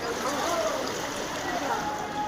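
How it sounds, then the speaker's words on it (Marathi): The Narmada river at Omkareshwar runs swollen and full, a steady broadband rush of water that holds at an even level throughout, with no distinct events standing out. "ही नर्मदा नदी फुल भरून वाहत आहे."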